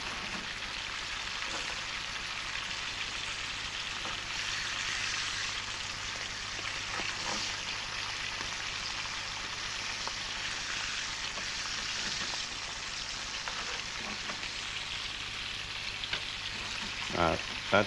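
Liver slices frying in a pan give a steady, dense sizzle all the way through, with a few soft scrapes and clicks of a flexible palette knife near the end.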